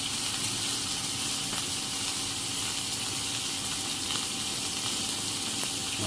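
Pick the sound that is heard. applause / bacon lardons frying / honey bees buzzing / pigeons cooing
bacon lardons frying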